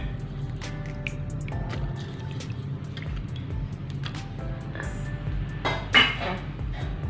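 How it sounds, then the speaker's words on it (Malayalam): Washed pumpkin pieces drop one after another into a cooking pot, making a scattered series of close clunks and light clinks against the metal, with a louder thud near the end. "അത് നന്നായിട്ട് കഴുകി നമുക്ക് പാത്രത്തിലേക്ക് ഇട്ട് കൊടുക്കാം"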